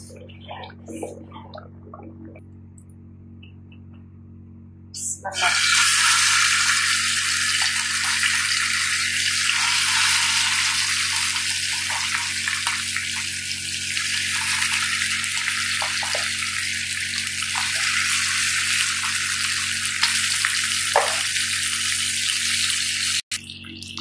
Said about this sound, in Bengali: এখন আমি মাছ ভাজি করবো